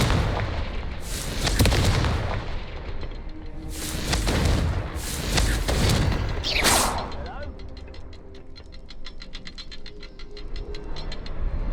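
Repeated Confringo fire spells burst in Hogwarts Legacy, each a loud booming blast with crackling tails, several spaced across the span, with a spoken voice calling out amid the explosions and a faint rapid ticking near the end.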